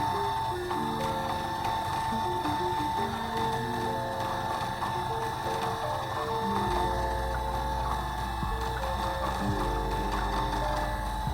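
A Louet Jenn-E electric spinning wheel spins wool at a fast 1800 RPM, giving a continuous close mechanical whir with faint ticking and gear-like rattle, steady throughout and without speech.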